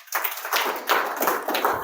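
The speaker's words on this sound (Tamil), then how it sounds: "எல்லா மாஸ்டர்களுக்கும் பெரிய கைத்தட்டு கொடுங்க" An audience gives applause for the masters at a spiritual gathering, a light patter of clapping that comes in several soft rhythmic bursts, fairly close.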